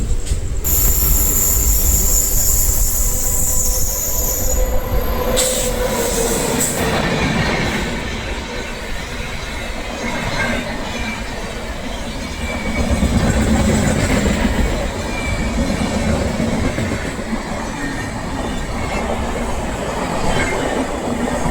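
The 16188 Karaikal Express pulling into an Indian railway station, heard loud and close as wheels squeal and coaches rumble and clatter over the rails, with the squeal easing partway through.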